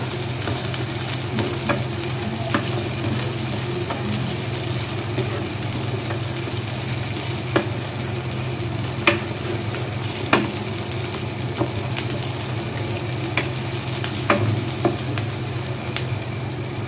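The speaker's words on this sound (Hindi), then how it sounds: "बस इसको हल्के से हमने कुछ 2 से 3 मिनट इसको सौते करना है सब्जियों के साथ" Fried chicken pieces sauté with vegetables in a pan for restaurant-style chicken Manchurian, producing a continuous even sizzle under a low background hum, broken by scattered light clicks of a spatula against the pan.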